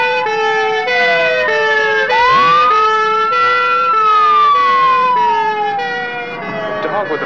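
A police siren from a 1979 comedy film wails loudly and continuously, its pitch sweeping up and down over a steady pulsing lower tone.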